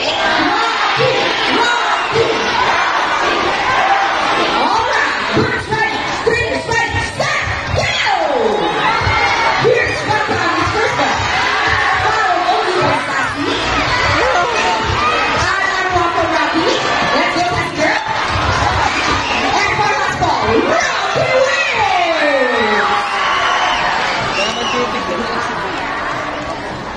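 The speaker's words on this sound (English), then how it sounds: "All the girls will cheer for Zaz. And all the boys will cheer for Rocky" A show audience at Manila Ocean Park cheers and shouts continuously, children's and adults' voices in a dense, loud crowd roar with chatter mixed through.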